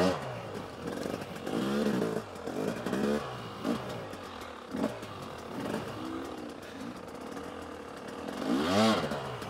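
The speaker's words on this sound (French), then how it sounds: "La moto, elle passe pas là." A hard enduro motorcycle struggles over rough, difficult terrain, its engine revving up and down in repeated rising and falling bursts, fairly close and loud, with the loudest surge near the end.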